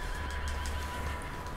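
A horse in the video game Red Dead Redemption 2, in a snowy setting, lets out a loud whinnying neigh over a low background rumble with faint hoof sounds.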